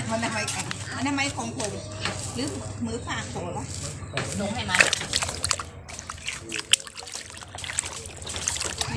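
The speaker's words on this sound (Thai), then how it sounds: "เราก็จะมาล้างหน่อไม้นะคะ ทำความสะอาดหน่อไม้ให้สะอาดก่อนนะคะ" Bamboo shoots being washed by hand in water, with irregular sloshing, splashing and trickling close by while someone talks over the sound.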